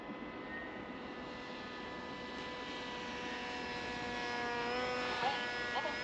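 A cheap, lightweight RC plane drones steadily overhead, its small electric motor giving a thin buzzing whine whose pitch shifts as it banks and passes, growing slightly louder toward the end.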